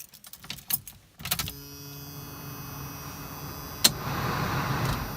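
A 1977 AMC Hornet is started with a few clicks and rattles, then a short cranking before the engine catches and settles into a steady idle, with one sharp knock partway through.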